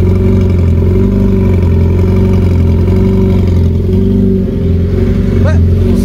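A Honda DC5 with its exhaust removed and only a 3-inch turnout fitted revs loudly and continuously at close range, the raw engine note rising and falling.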